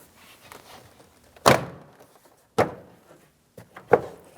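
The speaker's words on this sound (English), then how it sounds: "you can tap the door panel in towards the door" Four dull thumps, spaced about a second apart, as an interior door panel of a 2007-2014 GMC Sierra 2500 HD is tapped into place against the door, with quiet handling noises between.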